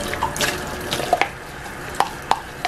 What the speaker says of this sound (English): that's when I wash the bottles